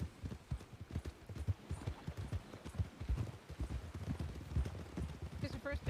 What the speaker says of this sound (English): All right, picking up the canter.